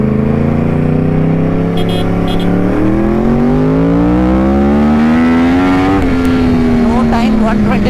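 A motorcycle in A riding mode accelerates through rising engine pitch with a brief drop at a gear change, loud and close in a riding recording, with wind rush and voices over it.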